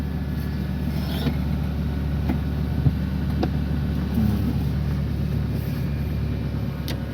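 A car at a driving school pulls forward in first gear, a steady low engine rumble with faint creaks and clicks, continuous and close, with no talking.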